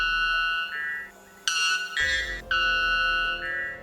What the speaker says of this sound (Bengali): বেলবার্ড। এই পাখির ডাক শুনলে প্রথমে মনে হবে যেন প্রকৃতিতে ভয়ঙ্কর অ্যালার্ম বাজছে